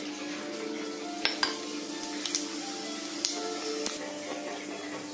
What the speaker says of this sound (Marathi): कढईमध्ये तेल तापत ठेवलेलं आहे। त्याच्यामध्ये आपण टाकणार आहे जिरे